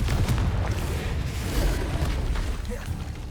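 Confringo blasting spell in Hogwarts Legacy: a loud, rumbling explosive boom with a roaring, sustained low-frequency wash, close and filling the short moment, with faint voice traces underneath.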